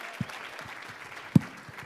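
Applause from a gala audience for a singer after her song, faint and distant with a couple of sharper claps standing out.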